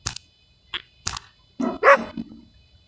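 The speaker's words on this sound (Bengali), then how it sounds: "এখন কুকুর চিল্লাইতেছে কেন?" A dog in a horror video game gives a few sharp, separate barks, then a louder, longer yelping burst, all close and clear with no speech.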